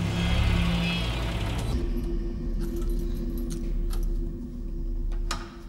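Keys jingle and clink repeatedly up close over a low engine hum, with a few sharper metallic taps toward the end.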